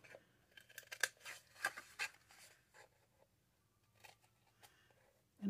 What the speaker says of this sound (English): Okay, so I'm going to cut this down the side.